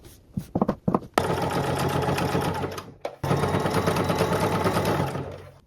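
A sewing machine hems along sleeves, starting with a few short stitch bursts, then running in a steady close rattle, pausing briefly and resuming for a longer even run.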